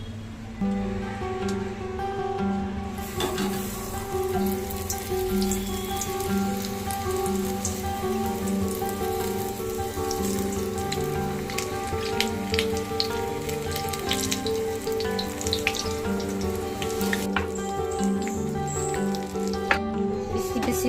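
Bajji fritters frying in hot oil, a steady dense sizzle and crackle of bubbling fat that runs throughout at moderate, even loudness, with no talking.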